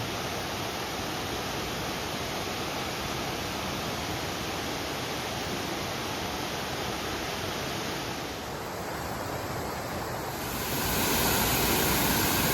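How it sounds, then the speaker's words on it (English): A waterfall, the upper section of Lower Canyon Creek Falls in the Trinity Alps Wilderness, roars in a steady, dense rush of falling water, close and loud throughout, swelling slightly near the end. "it's a beautiful waterfall"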